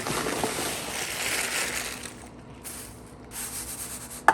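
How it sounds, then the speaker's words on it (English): Dry rolled oats, two cups, being poured straight into a baking pan: a soft rustling, scraping pour that eases off partway through and ends with a small knock. "the first thing you're gonna need is 2 cups of oats, and they just go directly into the pan"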